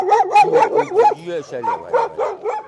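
Excited dogs bark and yip in short bursts close by, mixed in with cheerful talk from people greeting them at a rally service park.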